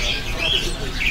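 Caged birds chirp at a kiosk in a bird market, bright repeated calls over steady background chatter and voices nearby.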